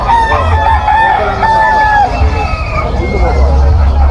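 A seven-month-old Talisayin stag rooster at a market crows in a drawn-out, wavering call amid crowd babble and nearby talking, with other fowl clucking around it.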